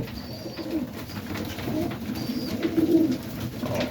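Serbian highflyer pigeons coo softly and repeatedly at close range, a steady low murmuring that runs through the whole moment with no talking.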